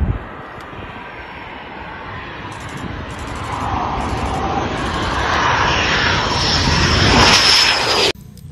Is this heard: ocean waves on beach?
no